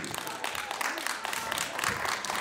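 Audience applause at a children's ensemble concert, a dense wash of clapping that stays steady and fairly loud throughout, with no speech over it.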